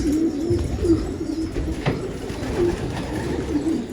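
An ink-coloured pigeon coos close by, a series of soft repeated low coos over faint outdoor background noise.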